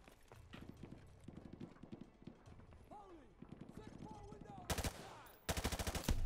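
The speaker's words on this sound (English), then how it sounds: "Oh, I hear gunshots." Rapid bursts of gunfire in the video game Call of Duty: Modern Warfare 2, scattered shots building into loud automatic volleys near the end, with faint voices underneath.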